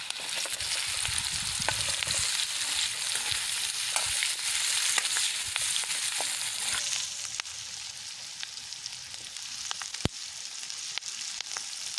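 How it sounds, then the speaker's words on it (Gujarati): Chopped large onion sizzling in a pan with cashews, a steady bright frying hiss throughout with occasional stirring clinks, slightly quieter in the last few seconds. "આપણી ડુંગળી આછા ગુલાબી ગુલાબી રંગની થઈ જાય ત્યાં સુધી આપણે એને ચડવા દઈશું"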